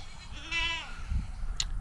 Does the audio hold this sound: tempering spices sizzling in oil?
no